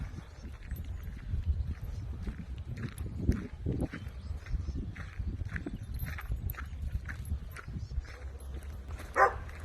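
A dog barks at people walking past on a springtime outdoor stroll, sharp barks recurring through the clip amid footsteps and general outdoor rumble, with one louder bark near the end.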